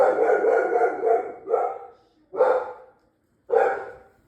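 A dog barks at visitors arriving at a home, a fast cluster of close, loud barks followed by two separate single barks with short silences between them.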